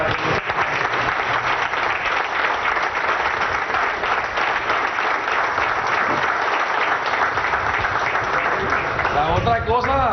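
Sustained audience applause at a Venezuelan political TV program, dense steady clapping from a crowd filling the whole stretch at high, even loudness with no break.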